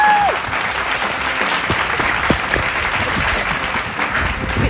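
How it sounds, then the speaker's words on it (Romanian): Dense applause celebrating a 50th-episode anniversary, loud continuous clapping from many hands sustained for several seconds, close and even throughout. "Aplauze!"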